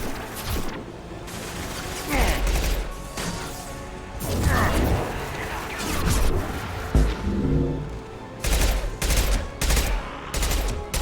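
Rapid bursts of gunfire from the Mass Effect video game on Insanity difficulty, heavy volleys in several clusters with brief lulls between, loud and close.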